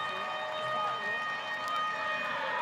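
A long, steady full-time siren wails at a rugby league stadium over crowd noise during an under-20s match, sustained for the whole stretch with a faint voice beneath it.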